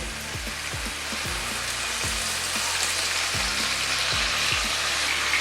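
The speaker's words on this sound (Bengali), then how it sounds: "এবারে দেব মাংসগুলো আমি আর অল্প সর্ষের তেল দেব" Chicken pieces frying in mustard oil over tomato and spice masala for a Bengali country chicken curry, giving a loud, steady sizzle that runs the whole time with a low hum beneath.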